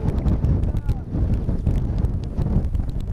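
Gusty wind buffets the microphone at a high mountain viewpoint on Roraima, a steady loud roar with uneven gusts running throughout.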